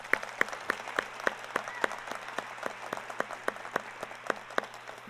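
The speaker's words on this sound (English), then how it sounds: "Huge applause for that," Audience applause at a university fall faculty and staff assembly, a hall of people clapping with sharp, fairly regular hand claps rising above a softer clapping bed, moderately distant.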